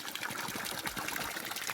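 Water trickles through a bamboo pipe on a hilltop farm in Guwahati, Assam. The flow is a steady, close gurgling stream and nobody speaks over it.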